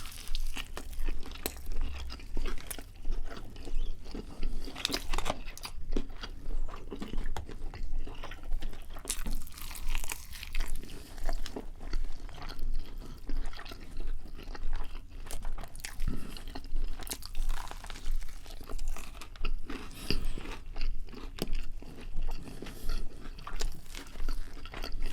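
Close, steady crunching and chewing of KFC Zinger, Trilogy and Fillet burgers, repeated bites and mastication in a regular rhythm over the whole stretch with no talking.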